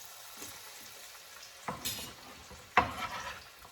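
Green zucchini sautés in a little oil in a pan for ratatouille, with a soft sizzle under a few sharp clinks and scrapes as the pieces are stirred.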